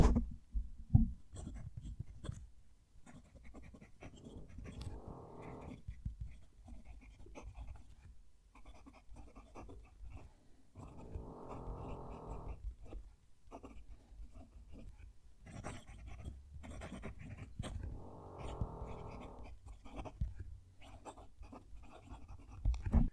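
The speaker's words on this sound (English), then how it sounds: "I'm going to move the mic down to the page so you can hear the pen write." A fountain pen nib writes on paper, heard close up as faint, scratchy strokes that come in irregular bursts with short pauses between them in a quiet room.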